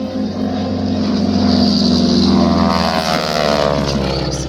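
A T-6 Texan propeller trainer flies at the Camarillo air show, its loud radial-engine drone and propeller whine holding steady and close throughout.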